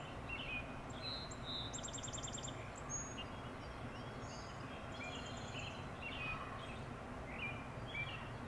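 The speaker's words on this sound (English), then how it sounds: "I was sitting here listening to the birds chirp" Birds chirp outdoors with short, faint, scattered calls over a steady background of rustling trees.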